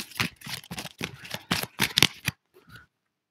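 A deck of cards for the board game Last Aurora gets a close, crisp shuffle, with several quick riffling bursts in a row that stop abruptly, then a brief soft rustle.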